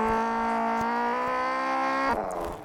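A car engine in a Roblox car simulator game hums with a steady buzzy harmonic tone, then the pitch drops and fades as it cuts off near the end; no talking.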